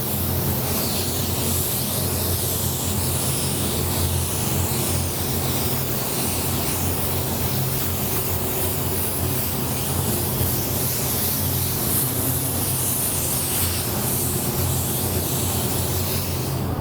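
Spray gun applies paint onto powder coated wheels in one continuous, loud hissing blast that holds steady from start to finish, with no talking.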